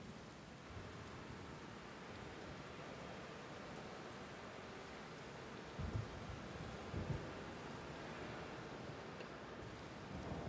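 Steady rain falls outdoors, a dense even hiss with a couple of brief low rumbles that sound like distant thunder partway through, no voices heard.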